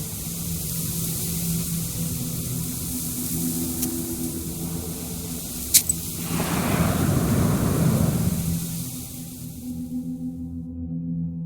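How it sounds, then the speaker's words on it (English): Murmur of the Chornaya River at night in the video game Black Book, a steady low rushing flow that swells into a louder surging wash midway, then fades out. "The murmur of the Chornaya River can be heard amidst the darkness."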